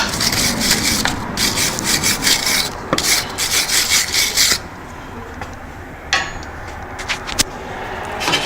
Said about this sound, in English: Try and wire brush it from all different angles just to get more dirt off